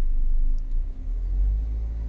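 A private car's engine rumbles low and close during a driving lesson, swelling as the accelerator is pressed, with a steady in-cabin drone throughout.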